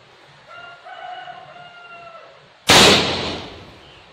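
A single sharp air rifle shot cracks out loud and close, its echo trailing off, just after a rooster crows in the background.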